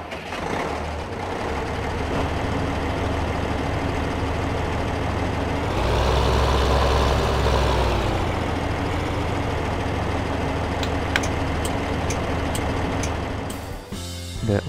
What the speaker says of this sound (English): Now we will listen to the motor and other sounds for just a moment.